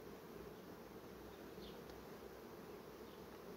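Honey bees from a strong, nectar-gathering colony hum steadily around an open hive, a dense continuous drone at moderate level with no break for the whole stretch.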